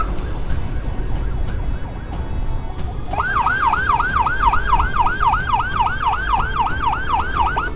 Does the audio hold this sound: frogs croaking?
no